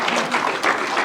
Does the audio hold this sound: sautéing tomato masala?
no